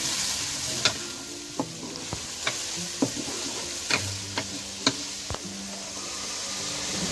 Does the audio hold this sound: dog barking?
no